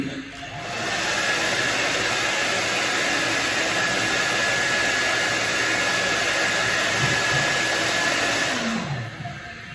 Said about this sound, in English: So this razor will get dried with a hair dryer quickly,